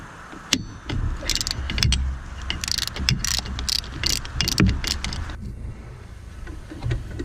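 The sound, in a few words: wrench loosening Honda Civic Si alternator bolts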